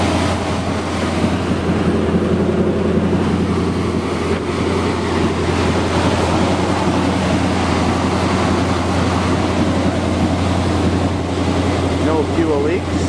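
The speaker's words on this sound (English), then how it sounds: "A bit of exhaust leak under there." A 1977 Chrysler New Yorker with an exhaust leak runs steadily, giving a continuous low rumble mixed with wind-like hiss throughout.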